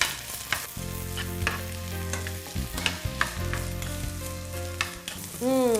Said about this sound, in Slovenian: zdaj bomo pa še šparglje dali tukaj v tole. Če zmešamo, da se počasi ne tole prepraži.